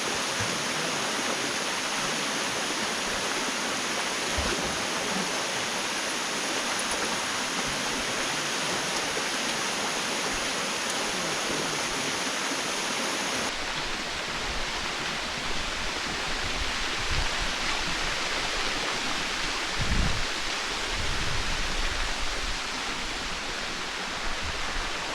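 Cascade d'Arpenaz waterfall near Chamonix roars as a steady, loud, unbroken rush of falling water, close by and alone, with no voices over it.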